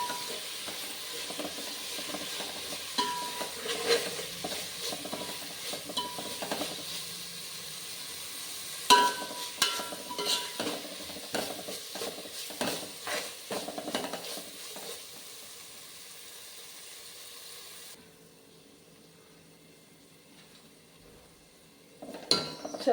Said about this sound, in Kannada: ಇದು ಚೆನ್ನಾಗಿ ಬಾಡಿಸ್ಕೊತೀನಿ ಈಗ.